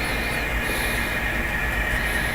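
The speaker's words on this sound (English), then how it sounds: "Jim Kreckelberg works with model trains." A model train runs along its tracks in a home basement layout, producing a steady, continuous whirring rumble with a faint high squeal, unbroken and with no voices.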